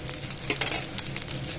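Garlic and curry leaves fry in oil, sizzling and spitting with a steady crackling hiss and occasional sharper pops and stirring sounds nearby.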